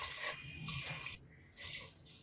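Water pours into a pot of mutton soup, a faint close splashing gurgle in short bursts with brief pauses between.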